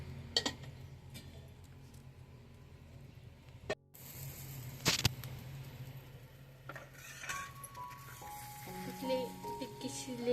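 Corn patties (tikki) shallow-fry in a pan with a soft, continuous sizzle, broken by sharp clinks and clatters of utensils against cookware.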